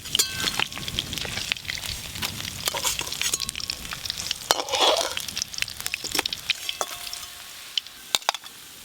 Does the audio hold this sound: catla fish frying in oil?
yes